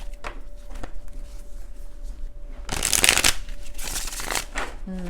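Tarot cards being shuffled in quick riffling bursts, loudest in the middle, with soft handling noises and a low steady hum behind.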